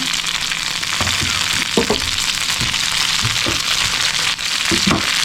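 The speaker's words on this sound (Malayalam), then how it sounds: "അപ്പം അതിലേക്ക് കുറച്ച് കറിവേപ്പില ഇട്ട് കൊടുക്കുകയാണ്." Curry leaves sizzle in hot coconut oil with fried onions and coconut pieces for a Kerala-style chicken varattiyathu, a loud, steady frying hiss close by, with scattered pops and stirring knocks.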